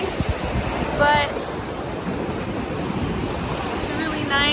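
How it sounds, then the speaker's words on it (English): Rough surf on a Destin, Florida beach in bad weather gives a continuous roar of waves with wind buffeting the microphone, loud and close, and faint voices occasionally heard. "It's kind of bad weather and the water's kind of crazy"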